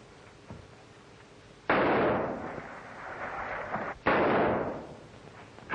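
Loud gunfire from a 1935 crime film set on a waterfront: two heavy, booming shots a couple of seconds apart, each with a long rumbling decay, over faint background noise and no speech.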